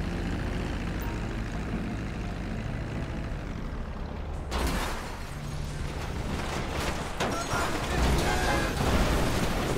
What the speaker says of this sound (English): You don't want to watch me fly this slow plane all the way up to Great Chaparral